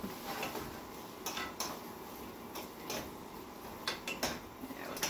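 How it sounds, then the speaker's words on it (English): A fork scraping and clinking against a pan while ramen noodles are tossed, with scattered sharp metallic taps and scrapes over a soft sizzling background. "that's scratching up my pan"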